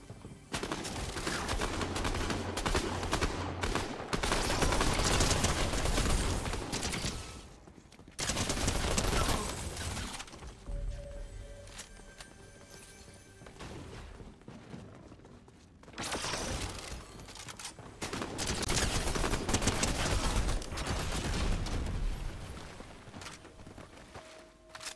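Loud sustained bursts of turret gunfire in Fortnite Zero Build, rattling in long volleys separated by brief quieter gaps with mechanical clatter.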